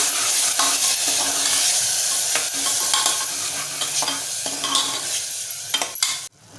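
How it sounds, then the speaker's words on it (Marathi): Onion-coconut paste for a Malvani white pea curry is sautéed in oil in a pan, giving a steady close sizzle with regular spatula scrapes and stirs that end abruptly. "आता जे आपण कांदा खोबऱ्याचं वाटण घेतलं आहे बनवून ते घालूया छान परतवूया"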